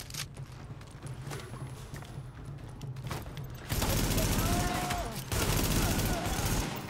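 Heavy gunfire in the video game The Division, rapid automatic bursts rolling under game sound that grows louder and denser midway, with a voice speaking over it.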